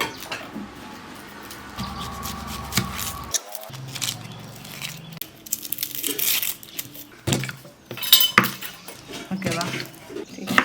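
Half a kilo of large onions being chopped finely with a knife for a potato and brinjal fry, giving irregular clicks and knocks amid kitchen clatter, with a voice speaking over parts of it.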